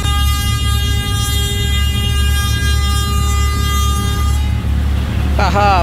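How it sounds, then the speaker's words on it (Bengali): A loud, steady horn from the river passenger launch Kuakata 2 blares continuously over its low rumbling engine during a three-launch race, with a shorter, different horn sounding near the end. "বারবার কিন্তু হর্ন দিয়া কুয়াকাটা 2ও সাইড চাইতেছে"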